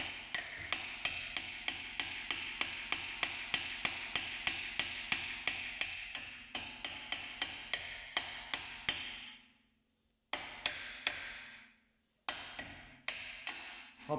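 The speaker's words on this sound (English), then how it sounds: "hammer it, back it out, hammer it" A long bolt threaded into a corroded front brake caliper pin on a Porsche Cayenne S is struck with a hammer in a quick, even run of sharp metallic blows. The blows pause briefly twice before resuming.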